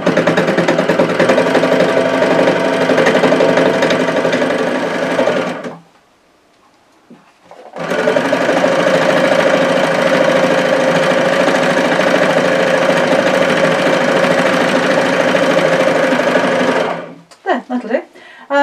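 A needle felting machine punches orange roving yarn with a little sparkle in a loud, steady mechanical chatter that runs continuously, breaks off for about two seconds, then resumes before stopping near the end.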